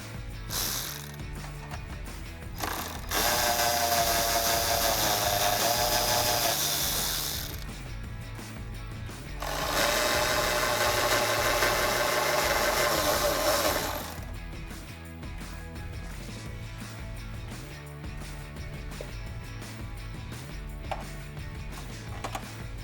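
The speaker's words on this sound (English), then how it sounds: "with your 11mm socket, remove the 3 bolts located on the back of the taillight" A ratchet with an 11mm socket backs out the three taillight bolts on a 2005-2009 Ford Mustang, giving close, rapid clicking in long runs and shorter bursts, with no talking.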